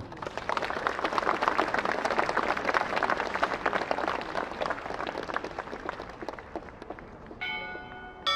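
An audience at a bell-ringing festival outside a church applauds steadily, a dense close wash of clapping that tapers slightly before a bell begins to ring near the end.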